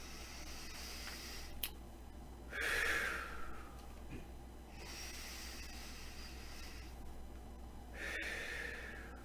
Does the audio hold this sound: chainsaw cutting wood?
no